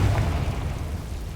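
A Confringo spell explosion in Hogwarts Legacy, a loud, deep rumbling boom that fills the whole moment and fades slowly.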